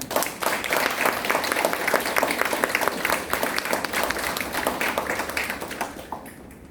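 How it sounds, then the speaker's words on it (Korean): A church congregation at a Sunday worship service claps together in sustained applause, dense and steady for several seconds before tapering off near the end. "박수로 축복하겠습니다."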